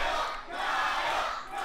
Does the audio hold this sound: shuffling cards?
no